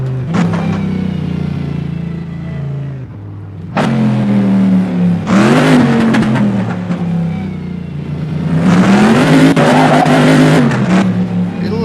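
A car engine fitted with a sound mod set to 70% revs hard in repeated loud bursts, roaring up and dropping back, with a raspy exhaust tone close by.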